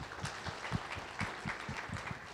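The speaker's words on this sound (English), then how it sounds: "Let's give her a round of applause." Applause from an audience at a talk on race, fairly faint and distant, with a few louder individual claps standing out in a loose rhythm.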